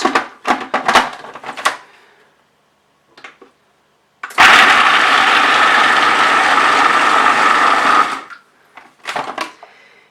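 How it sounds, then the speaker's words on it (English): Food processor breaking up chickpeas: a loud, close whirring grind lasting about four seconds, framed by clatter and handling noises before and after. "you want to first process chickpeas for just a few seconds, so it kind of breaks them up a little bit"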